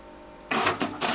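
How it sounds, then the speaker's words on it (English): A printer receiving a job sent wirelessly from an Android phone whirs into action, with loud bursts of mechanical feeding and printing noise close by after a brief quiet moment. "the printer should start working within a couple of minutes"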